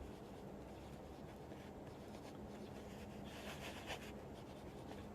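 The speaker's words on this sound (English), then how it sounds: "Let's see how it's writing this broad nib." A 14 karat gold broad-nib fountain pen glides over paper with a soft, continuous scratching close to the mic. The strokes become slightly louder near the end.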